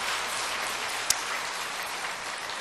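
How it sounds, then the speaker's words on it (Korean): A Korean church congregation at a Christmas service applauds the elders, a soft, even rattle of clapping with one sharp knock standing out partway through. "박수 한번 해주시죠."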